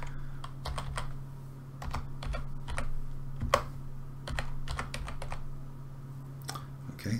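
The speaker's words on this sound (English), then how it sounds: "I'm going to type in the value I'm looking for" Keys clatter on a computer keyboard while a value is entered into a spreadsheet formatting rule, in irregular bursts of close, crisp clicks with no talking.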